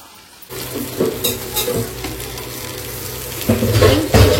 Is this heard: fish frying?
yes